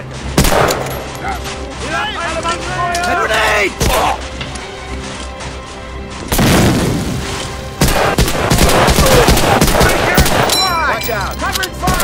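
Dense World War II firefight in Medal of Honor: Allied Assault, with rapid machine-gun bursts, single rifle shots and booming blasts nearly continuous and loud, while soldiers shout over the gunfire.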